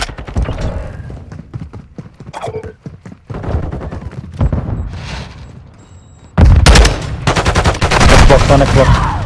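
Gunfire from the video game Call of Duty Modern Warfare 2: loud bursts of rapid shots and single cracks, growing into dense, continuous automatic fire toward the end, with some game chatter.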